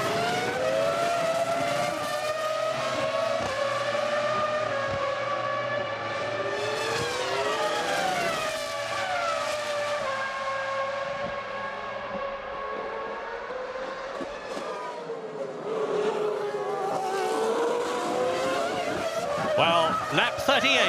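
Formula One cars of 2001 racing at the Italian Grand Prix at Monza, their high-revving engines wailing and sweeping up and down in pitch as they pass, loud and continuous under steady commentary talk.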